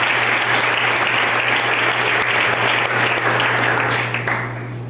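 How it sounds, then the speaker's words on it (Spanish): A church congregation breaks into steady, full applause at a worship service, a dense wash of clapping under a low constant hum, fading slightly at the very end. "Un aplauso al Señor."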